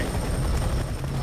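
A helicopter in the video game F.E.A.R. 3 gives a steady, loud rotor and engine roar that fills the whole brief moment.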